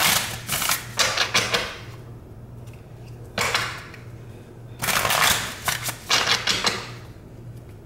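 Tarot cards are shuffled close by in repeated riffling bursts of sharp, rapid flutters separated by short pauses, loud and crisp with no talking.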